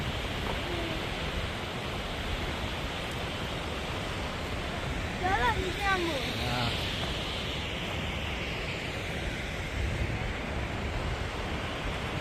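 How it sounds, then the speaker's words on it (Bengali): The Jung waterfall, running low on water, gives a constant broad rush of falling water that fills the whole stretch, with a brief, faint voice partway through. "হ্যাঁ এইটাকে বলে জাং ওয়াটারফল"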